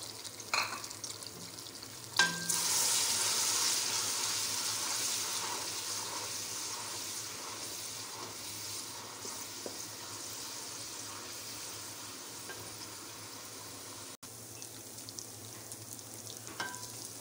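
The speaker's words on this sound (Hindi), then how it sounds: "हमने इसमें प्याज डाल लिया, इसको ब्राउन करेंगे।" Chopped onions fry and sizzle in hot oil in a pan as the base for chicken palak gosht. A loud crackle flares up as they go in, then a steady, close hiss slowly eases, with a few faint clinks and stirs.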